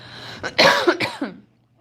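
A short fit of three or four harsh, throaty coughs close to the microphone, followed by silence.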